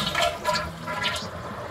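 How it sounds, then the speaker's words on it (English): A toilet tank drains with its flush handle held down during a runny-toilet repair, the water supply shut off: a steady, close rush of flowing water gurgling away without a break. "Then you want to hold down the handle till all the water drains from the tank to the bottom."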